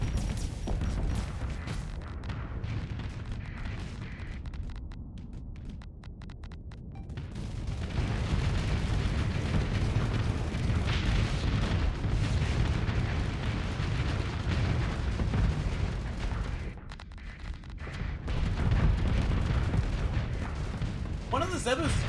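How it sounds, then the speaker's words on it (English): Missiles firing and exploding in a video game space battle against derelict ships: deep rumbling booms and blasts swell and roll on and off, loud through most of the stretch with a brief lull in the middle. "They can fire whatever missiles they want."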